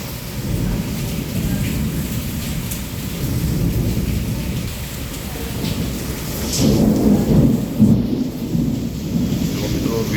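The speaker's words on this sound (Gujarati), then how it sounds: "વીજળીના ચમકારા અને વરસાદ ધાર આવી રહ્યો છે" Thunder rolls and rumbles through heavy nonstop rain in Wankaner, the downpour hissing steadily near and loud, with a deeper thunder swell building later.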